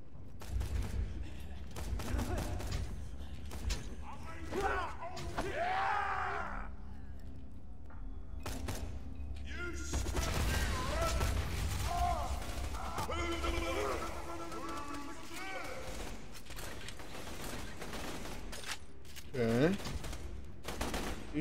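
Bursts of gunfire in the shooter game Borderlands 2 crackle in bunches amid game effects and shouted voices, the shots coming in short rapid volleys at moderate level with talk between them.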